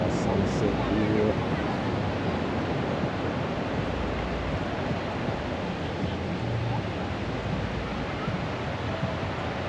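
Ocean waves on Kuta beach in Bali at sunset make a steady broadband surf wash that runs evenly throughout, with faint crowd noise from the busy beach mixed in.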